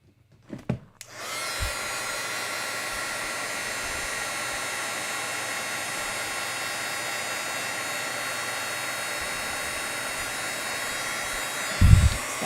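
A heat gun warming embossing powder roars with a steady, loud blowing hiss after a couple of brief clicks, running continuously at close range with a short bump of handling noise near the end.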